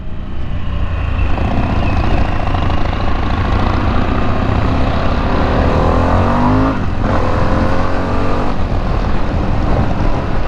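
A 2021 Harley-Davidson Pan America adventure motorcycle accelerating hard on a test ride, its engine note climbing steadily through rising harmonics under constant loud wind and road roar, with one brief shift near the end.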